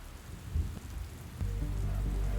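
Steady rainfall sound effect accompanying a children's church retelling of Noah's flood, a soft hiss of rain that swells louder partway through and continues evenly without voices.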